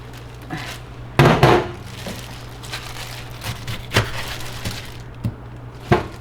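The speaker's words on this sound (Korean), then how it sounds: "이제 여기 김치를 먼저 썰어 볼게요" Knife strokes through kimchi on a cutting board: a couple of heavy thuds early, then sparse, irregular chops over a low steady hum.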